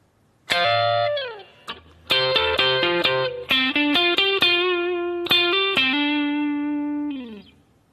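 Electric guitar plays a solo line with distortion and effects: a run of sustained, ringing double stops and slides, close and loud with no voices, fading at the end.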